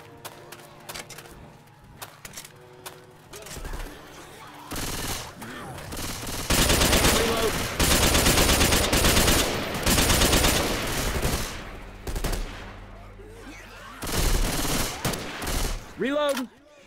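Gunfire erupts in a Left 4 Dead 2 custom campaign with eight survivors, starting with scattered single shots and then moving into long, loud, dense bursts of rapid automatic fire, with brief pauses between volleys and occasional voices mixed in.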